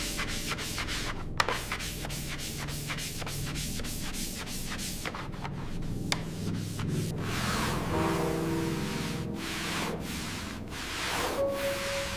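Abrasive rust removal on the metal of a Mercedes Gullwing, a rapid rhythmic scraping and sanding, stroke after stroke, then a steadier rubbing grind, close and moderately loud.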